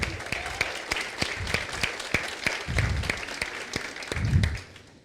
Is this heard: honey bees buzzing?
no